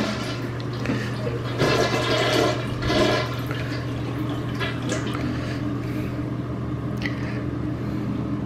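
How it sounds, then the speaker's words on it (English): A bidet toilet flushes indoors, a rushing, gurgling surge of water that swells twice and then settles into a steady trickle of refilling, close and fairly loud with no talking. "My bidet toilet."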